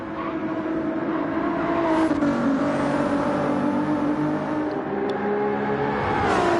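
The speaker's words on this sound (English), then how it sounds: "that car is moving quick" A race car at Road Atlanta screams by with a loud, sustained high-revving engine whine that holds steady and shifts pitch slightly as it passes, close and dominant with no talking.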